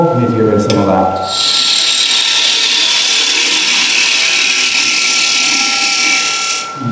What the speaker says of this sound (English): We're then going to go on with the spindle gouge again, and we're going to create an acorn.